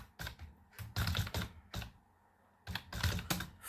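Bursts of rapid typing on a computer keyboard while entering C++ code, clustered keystrokes separated by short pauses, close and fairly loud, with no talking.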